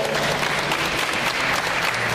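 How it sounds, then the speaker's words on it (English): An audience at an expo stage applauding, a dense, loud and sustained wash of clapping from a crowd that holds steady for the whole stretch. "Good round of applause, perfect run."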